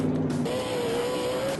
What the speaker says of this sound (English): What Borla does with the sound of this exhaust.